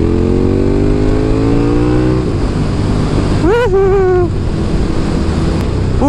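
A KTM Superduke 1290 R motorcycle being ridden and shifted through gears, its engine note rising then dropping as it changes gear, followed by a quick rising rev and rushing wind noise, loud and close.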